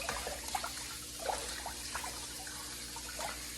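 A faucet runs a thin, steady stream into a sink while seitan flour dough is washed under it a second time. The water gives a soft, continuous trickle with faint splashes and no voices.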